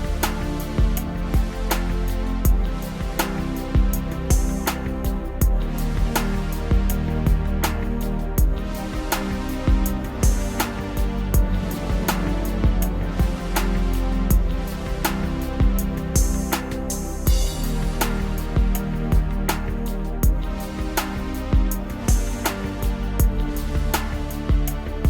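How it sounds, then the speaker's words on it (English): Drum pattern from a Korg PA5X arranger keyboard style, a steady punchy beat with sharp snare and hi-hat hits over a sustained 80s super pad, loud and continuous with no talking. "we're just going to hear the drums from the style"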